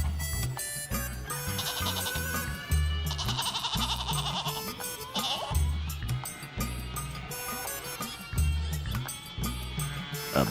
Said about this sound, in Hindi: ये बकरी नहीं बकरा है, बकरा